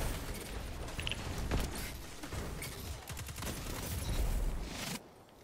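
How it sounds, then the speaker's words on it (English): Video game gunfire crackles as a rapid barrage of sharp shots, with several louder blasts that could be shotgun rounds mixed into the chaotic firefight before it drops away at the end. "Oh, that's a shotgun."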